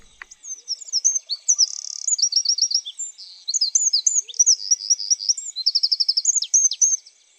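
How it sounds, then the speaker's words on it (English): Wren, a tiny songbird, singing a loud, rapid song of bright trills and chattering phrases, nearly continuous with brief pauses, close and alone. "Today we're looking at a little bird with the big voice,"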